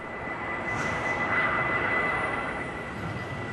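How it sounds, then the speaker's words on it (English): Jet airliner at Heathrow airport, a steady broad engine roar with a faint whine, constant and moderately loud throughout, with no voices. "At Heathrow, as one flight leaves, another arrives."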